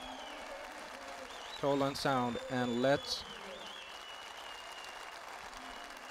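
Burst of applause from the crowd at an AK Party provincial congress in Kırşehir, a few seconds of clapping under and between loud amplified speech from a presenter.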